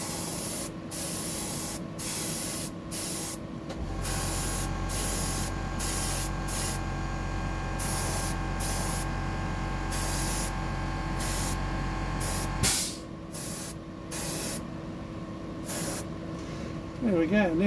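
An aerosol can sprays a coat of paint onto a Bony Bream deep-diver fishing lure in steady hissing bursts, with a long continuous spray in the middle, close up under occasional talk.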